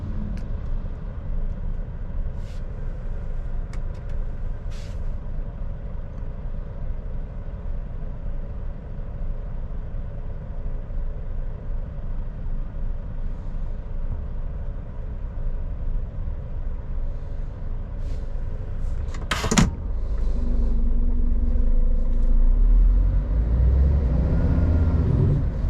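A truck rolls through a town centre with a steady, continuous engine rumble up close, a short sharp burst about two-thirds of the way in, then a lower, heavier drone.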